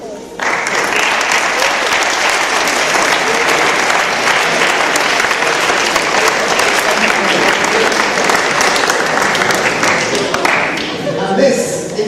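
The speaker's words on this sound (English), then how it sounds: "This deserves a clap" An audience applauds three returning Millfield Legends at an honours event, a loud, sustained round of clapping from a full room with some voices in the mix, tapering slightly at the end.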